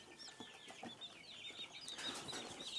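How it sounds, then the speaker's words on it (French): Cobb 500 broiler chicks fresh from the incubator, a faint scatter of high, thin peeping calls repeating in quick irregular bursts, close by and quiet. "j'ai fait sortir ces poussins fraîchement de la couveuse ce matin pour faire la vidéo"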